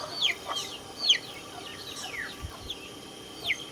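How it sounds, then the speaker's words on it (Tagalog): A distant rooster crows a few times, with short, thin calls spaced out against a quiet outdoor background. "isa lang yung tandang ko"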